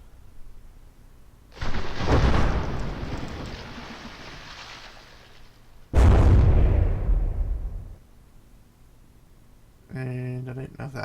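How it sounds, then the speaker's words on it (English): Ship guns in From the Depths pounding a vessel modelled on the hospital ship HMHS Britannic with shells: two big rumbling blasts, each decaying over a couple of seconds, then a short tonal electronic burst at the end. "It's just bombard it with shells."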